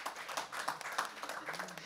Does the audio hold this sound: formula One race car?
no